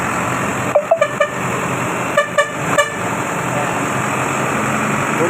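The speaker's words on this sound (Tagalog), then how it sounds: "Bumubusina siya, ibig sabihin, nandito na ako." A garbage truck in a Tondo, Manila street sounds its horn in short bursts: a cluster of three or four quick honks, then two or three more a second later, over steady street background noise.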